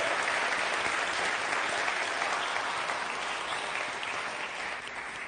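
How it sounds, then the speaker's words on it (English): Sustained audience applause for a board of trustees, a dense, steady wash of many hands clapping at full volume for about five seconds, tapering slightly at the end with no talk over it. "Would you give your board of trustees a hand of applause?"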